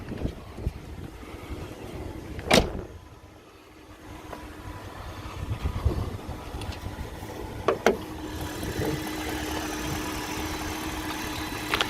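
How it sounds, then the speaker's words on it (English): A 2004 BMW 545i V8 with about 80,000 miles idles with a smooth, low, steady hum, a couple of sharp knocks and some wind noise over it, and nobody speaks. "Engine's quiet, runs smooth, sounds good."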